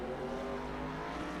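Race cars in the Top Flight Computers National Series drag race down the front stretch at Mid-Ohio, a steady, sustained engine drone held for a brief moment at moderate level.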